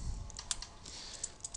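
Quick, uneven clacking of keys on an old computer keyboard with a sticky tab key, a run of close, crisp taps and a few louder strikes, with no voices.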